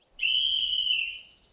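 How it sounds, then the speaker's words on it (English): A single clear, steady whistle tone with faint overtones sounds for about a second before trailing off, carrying the tone of a train engine's whistle. "Oh, that's the whistle."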